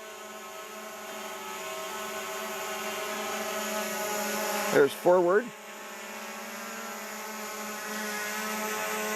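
A newly set-up drone's propellers buzz in a steady high whine with harmonic tones, briefly surging louder as it moves, while someone talks over it.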